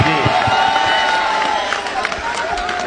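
A crowd applauds and cheers for Jitendra Awhad at a public gathering, steady dense clapping with shouts throughout, loud and close, mixed with a hum of voices.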